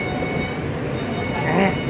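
Brief stretch aboard an Alstom R160A E subway train, steady close rumble of the moving car with a short tonal squeal or whine rising near the end.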